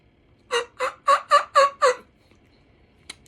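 A turkey mouth call worked by a hunter in the field, six loud, raspy yelps in a quick even sequence, then a single faint short note after a pause, with no talking.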